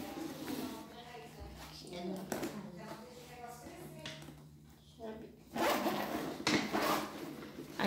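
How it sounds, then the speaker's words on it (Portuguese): A child's school backpack zipper is pulled open in several rasping strokes, close up, while people talk over it. "Abre aqui, filho, o zíper, ó."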